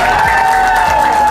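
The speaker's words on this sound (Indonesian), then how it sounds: "Mana tepuk tangannya coba?" An audience claps and cheers loudly at an Indonesian iftar gathering, a dense, close burst of applause with a high sustained tone running through it.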